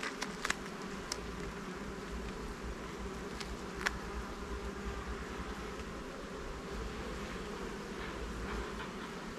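Dense, steady drone of many honeybees swarming around an open production hive in an apiary, a continuous close buzz with occasional individual bees zipping past the ear.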